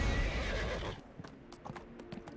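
A horse in the Neverwinter video game lets out a loud neigh, then its hooves clip-clop in a quick, fainter rhythm.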